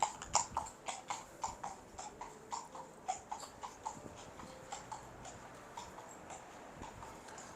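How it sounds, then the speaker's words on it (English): A horse's hooves clip-clop on a St. Petersburg street, a steady run of sharp, fairly distant knocks that gradually fade, with faint city ambience around them and no talking. "I can hear a horse."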